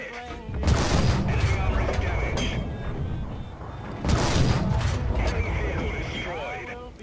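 Tank cannon fire in a tank video game featuring a Cromwell tank and a KV-1S, heavy booming shots with rumbling engine noise and mechanical clatter, loud and continuous, with someone talking over it.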